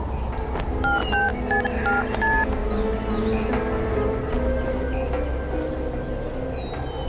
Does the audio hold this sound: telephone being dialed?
yes